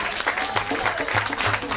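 An audience at a playground naming ceremony applauds schoolchildren with dense, continuous clapping that fills the whole moment, close and lively.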